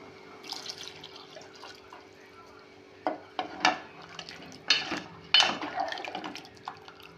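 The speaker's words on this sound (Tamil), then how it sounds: "நான் கொஞ்சம் தண்ணி சேர்த்துக்கிறேன்" Water trickles and splashes into a pot of chicken curry amid light clinks of a utensil, with a few louder pours and knocks near the end.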